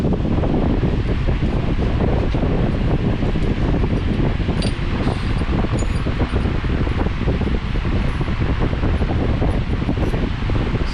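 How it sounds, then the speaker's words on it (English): Electric fan running steadily in a hot garage during engine work on a ProCharged, cammed 5.7 Hemi R/T, a loud continuous broadband whoosh with no pauses and no talk. "Sorry about the fan noise, but we ain't turning the fan off."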